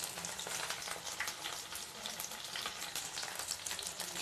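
Steady sizzling of onion, garlic and ginger frying in a hot pan, with soft stirring scrapes underneath, continuous and fairly quiet.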